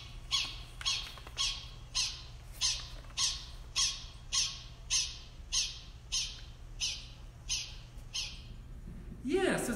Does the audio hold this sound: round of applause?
no